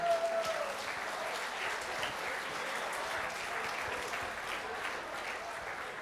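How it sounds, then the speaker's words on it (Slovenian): Steady audience applause at a regional party family day and rally in Vitanje, Slovenia, a dense even wash of clapping lasting throughout at moderate distance, with a brief tone at the start and no speech. "pa še en aplavz bomo zdaj dali regijskemu odboru Nove Slovenije Celje"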